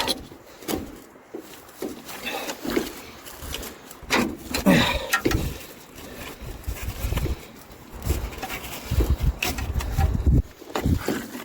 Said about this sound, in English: pull the old bushing out